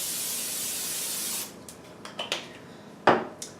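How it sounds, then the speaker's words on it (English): Cooking spray hisses steadily from a can onto an electric grill for about a second and a half, then cuts off, followed by a few quieter scrapes and clicks and one sharper knock. "I like to use a little non-cooking spray."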